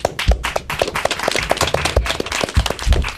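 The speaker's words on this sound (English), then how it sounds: "I like to end on a big round of applause" An audience at an elementary school academic derby match gives a round of applause, with brisk, moderately loud clapping from a modest crowd.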